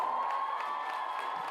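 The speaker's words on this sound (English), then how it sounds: "let's give a round of applause for Ms. Sandra Spence" Audience at a school awards ceremony cheering and whooping, a steady crowd roar lasting the whole short moment with no distinct claps standing out.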